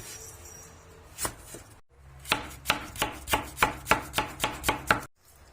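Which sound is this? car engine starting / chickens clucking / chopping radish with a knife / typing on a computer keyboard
chopping radish with a knife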